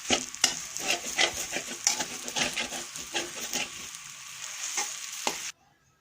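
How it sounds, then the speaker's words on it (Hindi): Makhandi halwa is stirred and roasted in a pan, with a spoon scraping repeatedly through the thick mixture over a soft, continuous sizzle, close and fairly quiet, stopping abruptly at the end. "अब इसको मिक्स करके थोड़ी देर भूनेंगे।"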